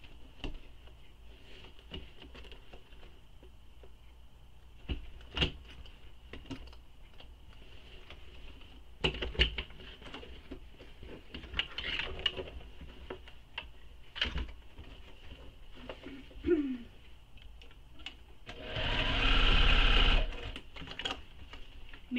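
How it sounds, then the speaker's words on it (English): A sewing machine stitches around the top edge of a fabric tote bag, a faint steady mechanical whir with scattered ticks and clicks, swelling into a louder burst of running near the end. "So now we're going to sew around the top of the bag using the seam allowance given in the pattern."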